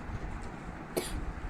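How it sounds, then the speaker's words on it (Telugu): A person gives a single short cough, quick and fairly close, rising briefly above a steady low background rumble. "నాకు కాఫ్ వచ్చింది యాక్చువల్గా"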